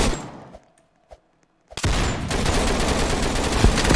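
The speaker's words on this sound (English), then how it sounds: "here comes the bombardments again" Bombardment in the Roblox game Dummies vs Noobs: a few scattered faint pops, then a sudden heavy barrage of dense rapid gunfire and blasts that stays loud and continuous to the end.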